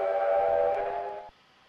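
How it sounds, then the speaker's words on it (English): A two-tone steam locomotive whistle from the Trainz: A New Era game on a CO17 steam engine sounds as a steady, layered chord for over a second, then cuts off abruptly into quiet. "I do like the fact that this has the two-tone whistle."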